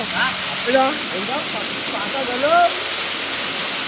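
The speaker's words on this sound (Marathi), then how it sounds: "वॉटरफॉल बघा एक नंबर आहे" A monsoon waterfall in full flow gives a constant, loud broadband hiss and rush, while someone talks over it in short phrases.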